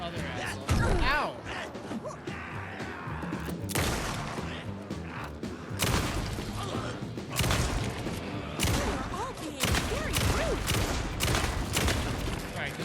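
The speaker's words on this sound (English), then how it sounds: "the shotgun's got like an auto fire" Shotgun auto fire in Alan Wake 2, loud repeated blasts in bursts through the game's combat noise, with a player's voice talking and exclaiming over it.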